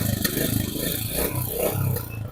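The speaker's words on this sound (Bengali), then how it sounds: "এই হচ্ছে ইঞ্জিনের সাউন্ড" A 2025 Royal Enfield Classic 350 Stealth motorcycle engine idles nearby with a steady low, thumping rumble that stays even throughout.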